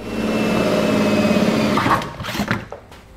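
A power drill whirs steadily at close range while boring a pilot hole for a Curt trailer hitch receiver on a 2008 Lincoln MKX, then the motor winds down into a few short bursts and clatters.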